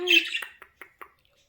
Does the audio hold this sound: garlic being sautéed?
no